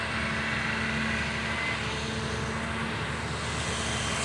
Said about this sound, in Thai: มีเรือดูดทรายครับ